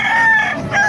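A Kanawayon rooster crowing at a market, one short loud crow heard up close and alone.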